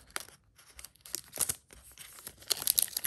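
A Yu-Gi-Oh Darkwing Blast booster pack torn open by hand, no scissors: several short, crisp ripping and crinkling bursts of foil wrapper, close and fairly quiet, separated by brief pauses.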